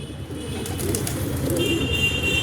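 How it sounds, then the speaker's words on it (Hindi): Low, soft cooing from pigeons close by, overlapping continuously, with a few faint chirps above. "भाई कुछ कबूतर मेरे पास हैं सेल वाले"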